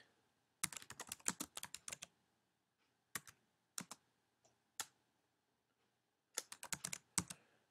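Keys clatter on a computer keyboard as breakfast foods are entered into an online food and activity diary tracker, in quick bursts of clicking separated by short pauses, close and clear.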